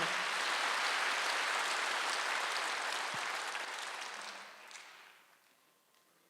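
Worshippers at a Wednesday church service clap together, a full steady round of applause that gradually fades out into quiet near the end.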